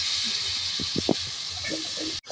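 Taro greens and chickpeas sit in hot oil in a pan, giving a soft, steady hiss. A few brief stirring clatters sound near the middle, and the hiss breaks off abruptly near the end.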